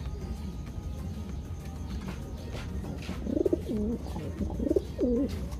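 An injured pigeon that cannot put weight on one foot gives several soft, close rolling coos over low background rumble and faint handling noise as it is picked up.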